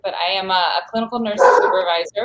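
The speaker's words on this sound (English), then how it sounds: "I apologize for my dog barking" A dog barks and yips repeatedly near the microphone, loud and sharp, while someone talks over it.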